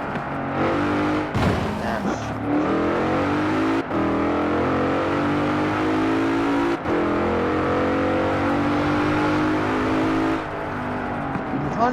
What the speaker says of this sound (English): You can kind of hear the old AMG noise in here, which sounds good